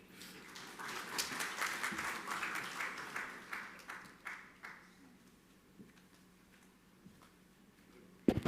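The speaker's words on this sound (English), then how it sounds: "can we have one more round of applause for Shri Nidhu Saxena?" Audience applause at a citation ceremony, a crowd clapping steadily for several seconds before tapering off into scattered claps and a quiet room, with a brief loud thump at the end.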